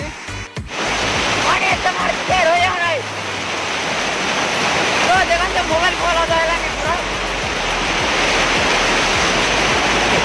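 The Punjisil waterfall in Koraput roars as a constant heavy rush of falling water, loud and close, while people talk over it.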